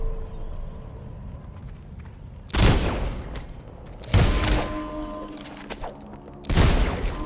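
Explosive bullets firing in the video game Dishonored: three loud, booming blasts spaced about two seconds apart, each with a sharp crack and a ringing, rumbling tail over a quiet ambient background.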